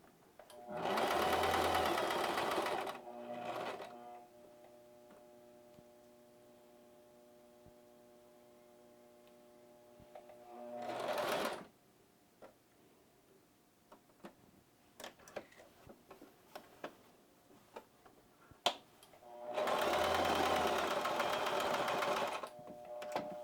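A sewing machine stitches a cloth mask in three loud whirring runs of a few seconds each, separated by quiet stretches with a low hum and small handling ticks.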